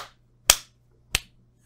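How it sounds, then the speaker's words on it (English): A few sharp hand claps, spaced evenly and heard close in a quiet room over a low hum. "Three claps."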